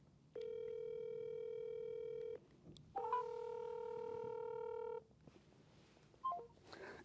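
Two long ringback tones on an outgoing phone call, each lasting about two seconds with a short gap between them, loud and steady, followed by quiet room noise and brief muffled sounds.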